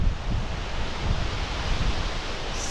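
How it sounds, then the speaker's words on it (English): Cautley Spout waterfall in the Yorkshire Dales roars steadily in wet, windy weather, a loud continuous broadband rush with wind buffeting the microphone and no voices. "Look at that waterfall."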